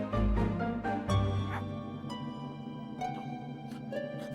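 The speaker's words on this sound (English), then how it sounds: "barks Sniff in surprise." A cartoon dog gives a short, surprised bark and a yip in a children's animated story, with a few brief vocal sounds at close range and then quieter tonal music.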